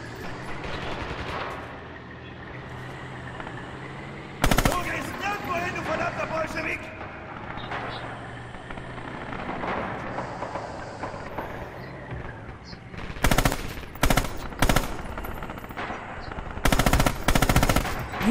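A German MG-34 machine gun fires in bursts in a video game set at Pavlov's House, loud rattling bursts at intervals with a cluster of rapid bursts toward the end, under ongoing talk and game noise.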